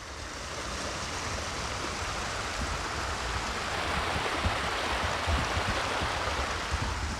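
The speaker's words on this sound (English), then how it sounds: "Well, that's how you fill a pond right there," Water pours steadily into a pond, giving a continuous, even rushing and splashing wash that holds at the same loudness throughout, with no voices.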